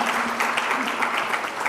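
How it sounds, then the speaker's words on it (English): Audience clapping at a sustainability summit session, a continuous patter, moderately loud, with a faint voice or tone lingering underneath. "Warm round of applause for this session"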